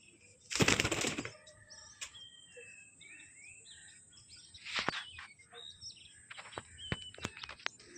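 Pet pigeons at home burst into a loud flurry of wing flapping near the start, followed by scattered soft coos and chirps, another flutter midway, and faint insect-like chirping in the quiet background.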